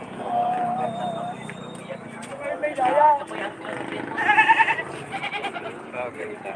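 A pregnant goat bleats a few times amid a busy outdoor livestock market in Padre Garcia, Batangas, with people talking loudly nearby throughout.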